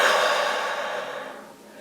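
A strong, steady exhalation blown out through the mouth during a relaxation exercise in a forest, one long breath fading gradually, close and clear with no talking.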